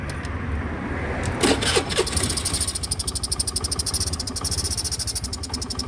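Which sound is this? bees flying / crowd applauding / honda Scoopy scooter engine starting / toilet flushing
honda Scoopy scooter engine starting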